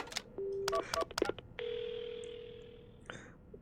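Phone dialing an ambulance in the horror video game Paranormasight: a quick run of keypad tones and beeps, then a long steady ringing tone that cuts off, heard close and clean.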